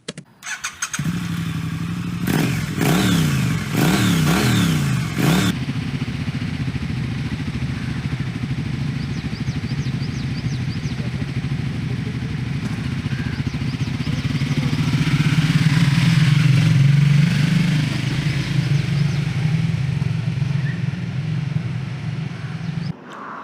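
A Triumph Speed 400 motorcycle rides out on a monsoon trip toward Tamhini. Its engine revs sharply in a few quick bursts, then settles into a steady, close drone that swells again later in the ride.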